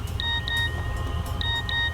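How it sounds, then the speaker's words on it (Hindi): A phone's missed-call notification tone plays as short repeated electronic beeps in two pairs, quiet over a low rumbling background, with no talking. "Missed call notification."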